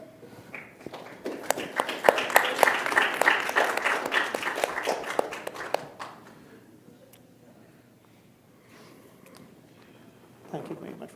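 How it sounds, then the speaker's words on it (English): Applause from an audience at an internet governance forum, a burst of dense clapping that swells for several seconds and then fades out, with a voice speaking briefly near the end. "We're going to have a real clap."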